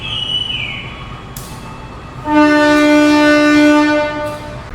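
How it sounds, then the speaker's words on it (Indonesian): The Senja Utama Solo passenger train departs Purwokerto station at night, sounding a loud, close, sustained horn blast for about two seconds over a low rumbling background. "Kereta api Senja Utama Solo diberangkatkan dari stasiun Purwokerto"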